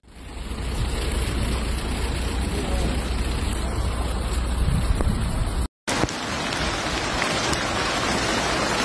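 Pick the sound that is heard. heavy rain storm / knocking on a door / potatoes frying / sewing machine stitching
heavy rain storm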